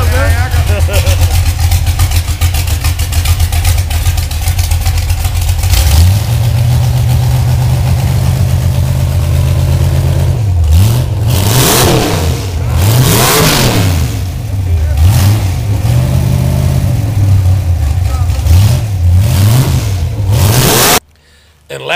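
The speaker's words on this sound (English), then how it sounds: "I've recorded some of a hot rod that my buddy's building" A hot rod car engine rumbles loudly up close, idling with a heavy low throb and then revving repeatedly in rising and falling bursts before cutting off abruptly near the end.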